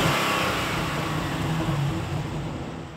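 A Chevrolet Caprice police car heard from behind at its exhaust: a loud, steady broadband engine roar with a low rumble that fades slightly toward the end, no talk.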